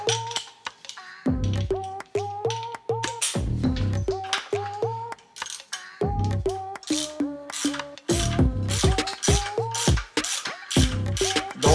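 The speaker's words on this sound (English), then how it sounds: "So what you're gonna do is just screw it right in there, and that's gonna be a number" A ratchet with a 22 mm socket screws in a part for a K24 oil cooler, its pawl clicking in rapid rhythmic bursts with short pauses between strokes, close and clear.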